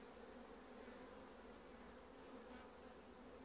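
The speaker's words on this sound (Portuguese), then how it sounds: "Bastante abelha, ó." Honey bees in an opened hive drone in a dense, steady buzz that fills the air, continuous and close, with no voices.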